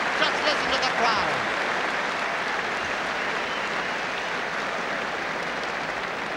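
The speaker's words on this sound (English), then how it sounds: "at half-time, just listen to the crowd" A large crowd at the 1978 Cork vs Kilkenny All-Ireland hurling final roars and applauds at half-time, a dense, steady wash of cheering and clapping that holds evenly throughout.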